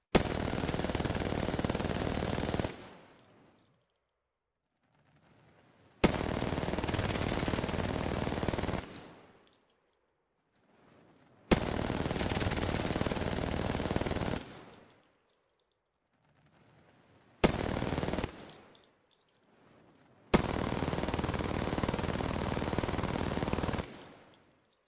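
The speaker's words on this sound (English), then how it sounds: "I got bored and gave the R99 huge amounts of knockback, so it's like holding onto a super-powered fire hose" R99 submachine gun in Apex Legends firing in five long sustained bursts of rapid automatic fire separated by short silences, each burst ending with faint clinking.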